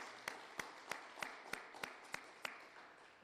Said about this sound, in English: I want to give them a round of applause for that investment